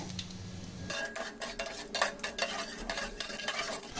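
Cumin, mustard seeds and urad dal fry in hot oil for poha upma, with close sizzling broken by sharp scrapes and clinks of a spoon stirring against the pan.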